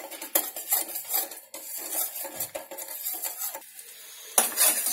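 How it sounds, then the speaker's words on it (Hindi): Sugar is stirred in a pan over a low flame to caramelize it, with a spoon scraping and clinking against the metal in quick, irregular strokes close by and a faint sizzle underneath. "इसको हमें लगातार चलाते रहना है।"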